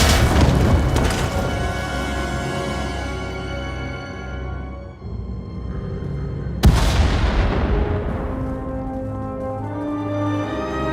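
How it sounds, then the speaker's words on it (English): Deep, rumbling booms from a Star Wars: The Old Republic video game roll out one after another, with a sharp blast midway that echoes and fades over a continuous low roar. "We heard explosions."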